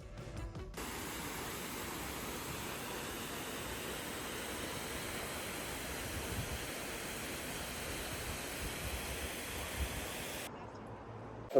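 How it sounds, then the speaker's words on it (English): Multnomah Falls, a tall waterfall in a park beside the Columbia River, delivers a constant broad hiss and roar of falling water, steady and fairly loud throughout with no voices over it. "Our third stop is Multnomah Falls, a beautiful park and waterfall."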